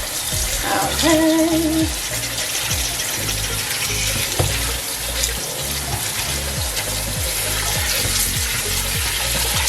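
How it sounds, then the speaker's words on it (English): Water runs steadily from a kitchen tap while Irish sea moss is rinsed in a sink, a loud continuous splashing stream with a brief spoken word near the start. "rinse it again, get any of the oceaniness off of it."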